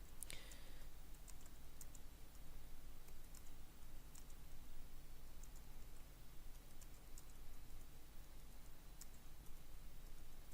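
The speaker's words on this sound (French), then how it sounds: "Donc, ici par exemple je vais taper un texte." Keys tapping on a computer keyboard as text is typed, a steady run of faint, soft clicks with an occasional sharper tap, close by in a quiet room.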